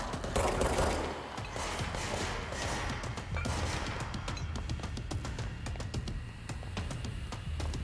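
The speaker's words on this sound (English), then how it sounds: "Someone's shooting at me." Gunfire in the video game Control, rapid bursts of shots and mechanical clatter layered over a dense, busy game soundscape at moderate loudness.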